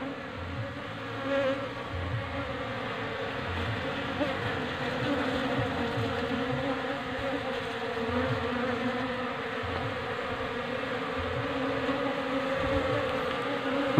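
A bee colony drones in a dense, continuous buzz while the hive is moved, with many insects humming steadily and close for the full length, with no voices.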